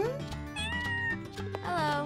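A cat meows several times in quick succession, close and fairly loud, over soft background music.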